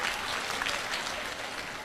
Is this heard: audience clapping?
yes